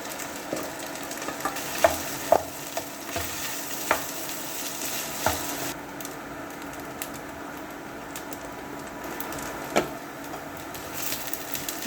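Cooking oil sizzles and crackles steadily as food fries in a pan at home, with scattered sharp pops and utensil clicks over a continuous hiss, no talking.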